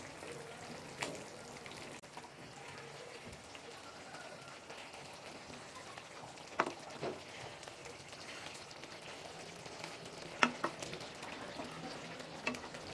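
Egg drop curry simmers in a pan while the eggs are gently turned over: a steady low bubbling hiss runs throughout, with a few faint clicks from the utensil against the pan.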